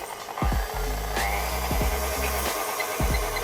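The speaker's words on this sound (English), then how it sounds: "I'm going to mix for 6 minutes on speed 3 with a whisk attachment" A stand mixer with a whisk attachment beats mashed banana into vegan muffin batter at speed 3, a steady close motor whir with repeated knocking clicks as the whisk strikes the bowl.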